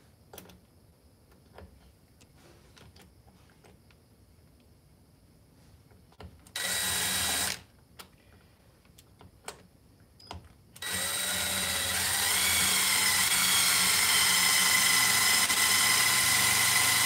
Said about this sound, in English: drill bit in hand